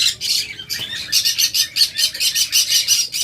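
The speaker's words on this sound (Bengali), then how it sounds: "পাখিগুলো এই যে দেখুন" Shrill, rapid chirping and squawking from caged pet birds such as cockatiels, budgerigars and doves, repeating in quick pulses close to the microphone with no voices over it.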